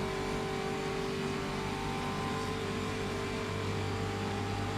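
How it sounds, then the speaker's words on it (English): A race car engine in a racing game holds a steady, buzzing note throughout, with a continuous drone and no clear change as the driver lifts off the throttle; fairly quiet and alone, no talk. "Might hear the engine note change in a second as Jernej lifts off the throttle."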